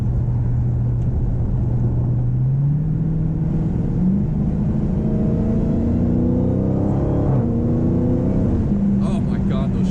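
Factory-stock Dodge Challenger Hellcat revving up through its gears, the exhaust rumbling loudly with pitch rising and dropping at each shift, pops and crackles mixed into the steady roar throughout.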